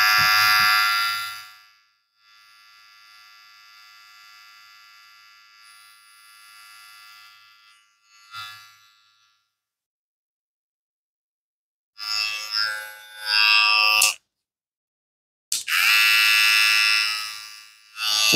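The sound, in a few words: Kemei KM 264 hair clipper motor running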